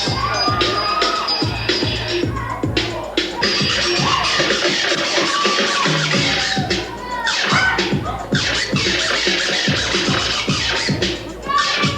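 DJ scratching turntables during a mixing contest, with rapid, rhythmic scratch bursts cutting over a loud beat, the choppy stutters repeating densely throughout with faint crowd noise beneath.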